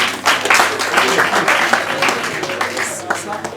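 Audience clapping at a distributors' award presentation, a dense, steady patter of many hands sustained throughout at close range.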